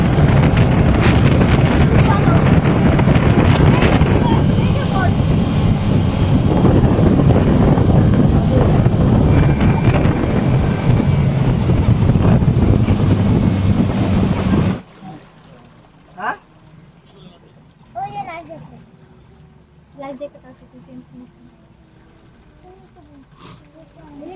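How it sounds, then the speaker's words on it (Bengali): Promodini houseboat out on a lake at Rangamati, with loud wind buffeting the microphone for about fifteen seconds before it drops away to quieter water and boat sounds with occasional voices. "এটা হচ্ছে আমাদের প্রমোদিনী লাইফ বোট।"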